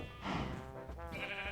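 A Minecraft sheep gives a single close, clear bleat that wavers for under two seconds, heard alone with no talking over it.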